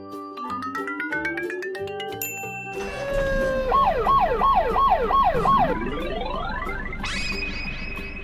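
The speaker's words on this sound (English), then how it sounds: "ambulance" An ambulance siren wails in rising and falling sweeps, then shifts to a faster warbling pattern before a higher tone takes over, loud and close with no talking.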